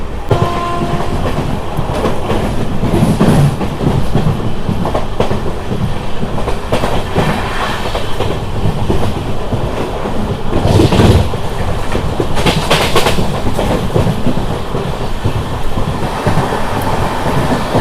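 Machilipatnam to Bidar superfast express train, fitted with new coaches, rumbles and clatters steadily along the rails, close and loud throughout, with a brief horn-like rise partway through.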